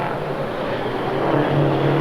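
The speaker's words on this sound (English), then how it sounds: "So the 12-litre turbo Volvo doing well ahead of the bigger capacity Kenworths in behind him." Race trucks at Baskerville in 1991, a Volvo N12 with a 12-litre turbo engine ahead of larger-capacity Kenworths, give a steady droning engine roar from a distance that swells slightly as they pass.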